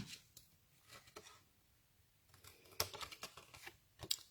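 Scissors trim the paper edges of a handmade card panel during a live card-making session, giving sparse crisp snips and clicks up close with brief pauses between cuts and no speech.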